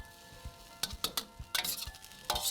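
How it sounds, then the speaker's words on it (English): Fried rice is stirred in a hot pan, with a few scraping and clacking utensil strokes over a faint sizzle, close by, in irregular bursts with no voices. "So at this point, we're just giving it a good mix,"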